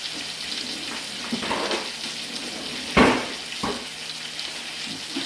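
A New York strip steak sears in a hot pan, giving a steady hiss of frying with a few louder crackles and spits, heard close and without talk.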